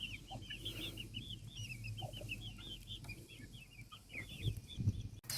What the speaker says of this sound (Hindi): ले जी ये आ गई हमारी 2 बच्चों वाली मुर्गी।